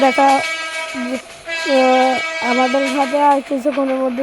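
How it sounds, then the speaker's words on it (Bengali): The horn of the Dhaka-bound Torun intercity express train sounds in long, sustained tonal blasts, loud and near, with a brief pause between bursts. "দেখা হচ্ছে ঢাকাগামী আন্তনগর তরুণ এক্সপ্রেস"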